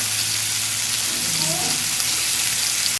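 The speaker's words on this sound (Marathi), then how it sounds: "मच्छी एक एक करून पलटून घ्यायचं, कारण की एक साईडने ऑलरेडी फ्राय झालंय" Whole fish frying Malvani style in hot oil in a pan, a steady close sizzle running throughout with a brief clatter at the very end.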